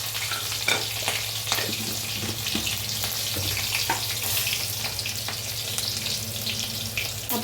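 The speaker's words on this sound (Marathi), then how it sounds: "आता हिरवी मिरचीचं लसणाचं वाटण तर मिक्स करून भाजून घेऊया." Green chili and garlic paste fries in a pan with a loud, constant sizzle and crackle, close up, with faint stirring scrapes and no talking.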